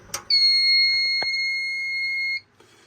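Fire alarm system sounding during a panel test, giving one loud, steady electronic tone that holds for about two seconds and then cuts off abruptly, with brief clicks before and after.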